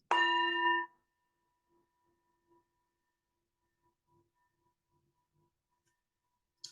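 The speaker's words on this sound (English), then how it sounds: "with the fading of the sound of the bell" A single meditation bell strikes once with a bright, ringing tone that cuts off quickly, followed by long near-silence broken by faint soft traces, then a brief second onset at the very end.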